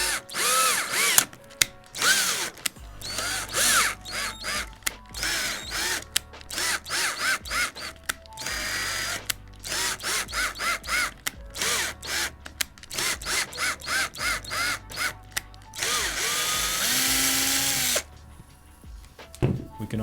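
Power drill driving screws into a carbon fiber F-series bass neck, whirring in short repeated bursts with brief pauses between them, close and fairly loud, with a ratcheting clutch click near the end.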